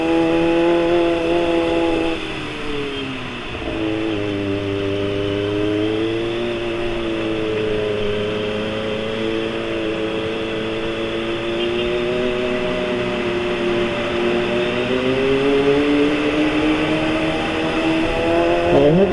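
A Kawasaki ZX-25RR motorcycle on a morning road ride, its high-revving engine whining loud and close as it climbs through the gears, the pitch rising and dipping with each shift over a constant road noise.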